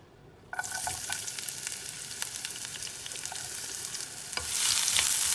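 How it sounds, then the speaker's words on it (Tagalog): Tomato, garlic and onion hitting a hot pan and sautéing, a sudden burst of sizzling that settles into steady frying with stirring scrapes, growing louder near the end, close and without talk. "So, start na tayong maggisa guys."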